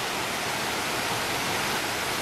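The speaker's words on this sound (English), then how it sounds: "So this is the waterfall." Waterfall near Teresopolis in Rio de Janeiro state, a loud continuous broadband roar of falling water heard up close with no break.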